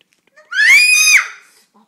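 A small girl, two years old, lets out a single loud, sustained high-pitched scream lasting under a second, close to the listener and standing clear against an otherwise quiet room.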